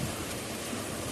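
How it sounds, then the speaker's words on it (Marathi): Heavy rain falls in strong wind, a steady, even wash of hiss and rush that holds at a moderate level throughout with no voices. "खूप जोराचा पाऊस चाललाय, वारा बी लय सुटलाय"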